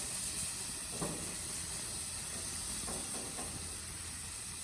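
Steak sizzles in a pan right after being flipped, a steady faint hiss of frying with a few soft clicks, heard alone.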